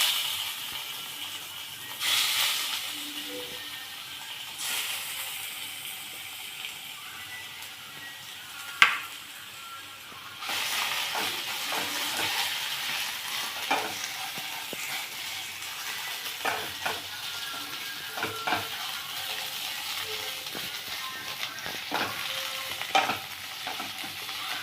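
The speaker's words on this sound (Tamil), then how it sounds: "இதை எடுத்து வச்சுட்டு இந்த நெய்லியே நம்ம பூசணிக்காயை வதக்கிக்கலாம்." Grated pumpkin sautéing in ghee for Tamil-style poosanikai halwa, a steady soft sizzle with intermittent scraping and stirring of a spoon against the pan, including one sharp clank; no voices.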